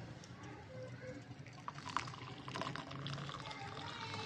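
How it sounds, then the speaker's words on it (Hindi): Freshly boiled tea pours into a cup or pot with a continuous close liquid splash that grows fuller toward the end, heard alone without talk. "अभी चाय डालते हैं जी, तकरीबन बन गई हमारी चाय।"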